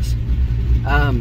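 Foxbody Mustang engine running at idle with a Holley Terminator X controlling idle spark, a steady low rumble close by with someone speaking over it near the end.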